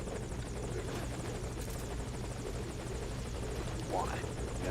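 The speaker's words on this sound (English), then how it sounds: "Target on the chopper." Helicopter in the video game Metal Gear Solid V: Ground Zeroes, a steady rotor thump and engine whine holding throughout under game sounds, with a rising tonal sweep near the end.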